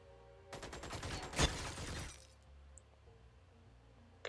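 Machine gun fire in the Xenonauts strategy game: a dense burst of rapid shots lasting about a second and a half, with one sharper crack in the middle, followed by quieter game ambience.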